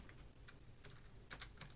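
Soft clicks of typing on a computer keyboard, a short burst of several quick, uneven keystrokes, close but very quiet over faint background hiss.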